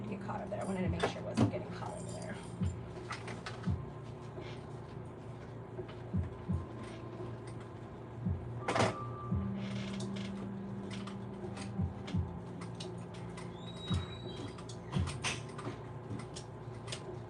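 Hand-cranked sewing machine stitching thick fabric in a home sewing room, a steady low mechanical whir with irregular clicks, creaks and soft knocks, fairly close, while a person talks over it.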